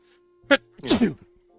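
Two sneezes in quick succession, a short sharp one followed by a fuller, louder burst, close to the microphone against near silence.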